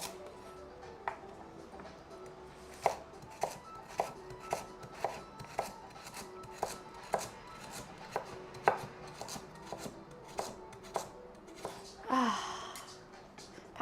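Vegetables being chopped on a board with a knife, steady rhythmic cuts, about fifteen crisp, close chops evenly spaced, ending with a brief rustle.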